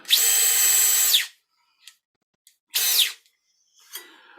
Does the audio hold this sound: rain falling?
no